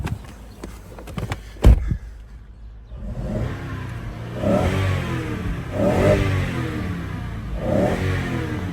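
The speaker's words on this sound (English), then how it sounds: "You could hear the air coming in through here." Engine of a 2009 Lexus LX570 revving repeatedly with air rushing in through a newly installed snorkel, a rising and falling whooshing roar heard close after a few clicks and a sharp knock.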